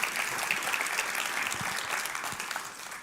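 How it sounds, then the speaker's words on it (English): Audience applause after a startup pitch at a festival competition, dense sustained clapping from a crowd that stays strong throughout and eases slightly at the end. "but hey, let's give applause."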